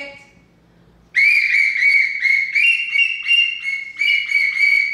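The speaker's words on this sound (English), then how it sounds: "Nobody wants to hear the whistle." A plastic whistle is blown repeatedly in a series of short, shrill, piercing blasts that pulse close and loud, starting abruptly after a quiet moment with no talking.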